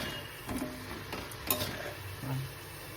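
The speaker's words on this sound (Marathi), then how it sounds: "आता हे मी सगळे तळून घेते" Snack pieces made with potato sizzle in hot oil in a pan, with a spoon stirring and a few clinks against the pan, all close, no voices.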